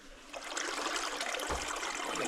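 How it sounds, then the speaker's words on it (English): Underground waterfall deep in the old Hacklebernie Mine gives a steady, continuous rushing and splashing of water, moderately distant and even in level throughout, with no voices. "Underground waterfall."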